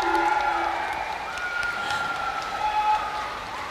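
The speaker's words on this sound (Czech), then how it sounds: "Ještě jednou velký potlesk, prosím," Audience clapping at a children's dance school recital in Prague, a steady full burst of applause from a crowd with a sustained musical tone running underneath.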